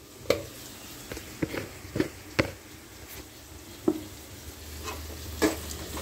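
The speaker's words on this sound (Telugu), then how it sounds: "ఇలా చక్కగా కలుపుకోవాలండి. కూర మొత్తానికి సాల్ట్ మసాలా అంతా పట్టాలి కదండి." A spoon stirs spiced curry in a frying pan, giving close, irregular scraping knocks over a soft, steady sizzle.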